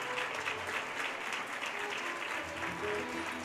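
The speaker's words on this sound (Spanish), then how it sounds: "Fuerte aplauso para nuestra dama infantil." A crowd at the Taraguilla fair coronation applauds a young court lady being presented, a dense, even wash of clapping heard from a distance, fairly faint but sustained the whole time.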